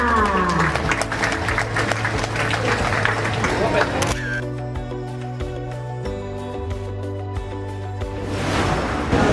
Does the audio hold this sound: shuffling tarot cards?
no